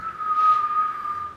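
A person whistles a single sustained note for just over a second, close and clear, with no talking.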